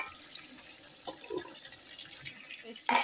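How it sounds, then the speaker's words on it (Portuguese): Water pours from a tap into a pot of rice in a rural kitchen, a steady close splashing stream with a few small clatters and a louder burst at the end. "Boto a água até cobrir o arroz, tipo assim, os dois dedinhos."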